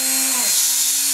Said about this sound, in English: If you press too hard, your wheel's going to stop, and this will basically happen with any buffing wheel.